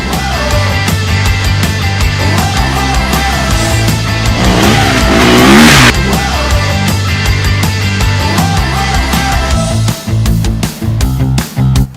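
A Husqvarna 250 FE four-stroke dirt bike engine revs hard and close, climbing and dropping through gears as the bike drives out of corners, ending in a few sharp blips of the throttle.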